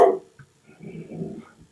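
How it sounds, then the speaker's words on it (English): Dogs bark indoors in a short burst: one sharp bark, then muffled, whimpering barks close by with no other sound. "sorry for my dogs barking"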